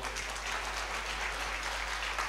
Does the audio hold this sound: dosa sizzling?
no